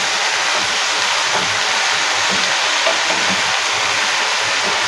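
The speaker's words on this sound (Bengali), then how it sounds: "এখানে 8-10টা রসুনের কোয়া কুচি দিয়েছে। এটাকে ভাজতে দিতে হবে ভালো করে।" Chopped garlic fries in hot oil, a steady, even hiss of bubbling with faint crackles throughout, close up and without talking.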